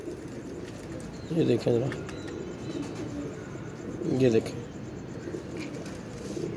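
Two soft bursts of pigeon cooing, low and throaty, rise a couple of seconds apart while someone talks nearby.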